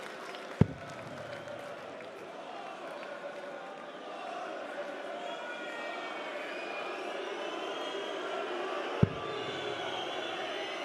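A darts crowd at the Swiss Darts Trophy makes a steady, distant murmur of cheering and scattered applause, with two sharp thuds cutting through the low hubbub.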